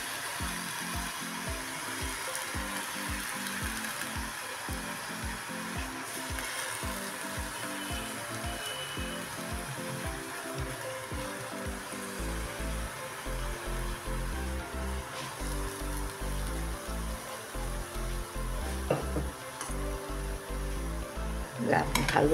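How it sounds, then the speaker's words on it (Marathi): Mixed lentils fry and sizzle in a pan while being stirred up and down, a steady close hiss with rhythmic scraping strokes throughout and no talking. "आता हे सर्व आपण एकदम टाकून त्याला खालवर करून भुजूया."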